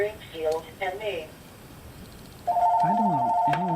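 Landline telephone ringing indoors, a steady electronic ring tone starting partway through and continuing loud and close after a quieter stretch, with a person talking before it.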